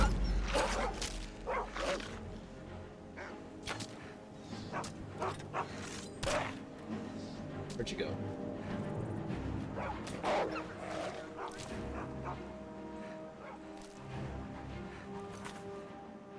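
Dog barking in the modded video game Skyrim: a run of close, repeated barks and yips with whimpering between them, while someone speaks briefly over them.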